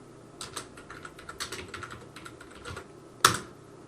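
Someone types on a computer keyboard using Ctrl-K, Ctrl-C shortcut presses, a quick cluster of close clicks and then one sharp, louder keystroke near the end, with no speech.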